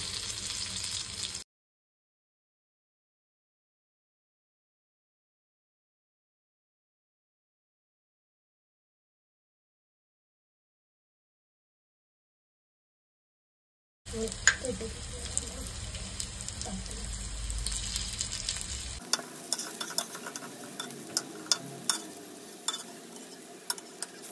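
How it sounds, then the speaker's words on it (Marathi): Steamed aluvadi, colocasia leaf rolls, deep fry in hot oil with a bubbling sizzle and occasional stirring clatter, heard briefly at the start and again after a long stretch of silence. "आता ह्या वाफवलेल्या आळू वड्या आपण डीप फ्राय करून घेऊया."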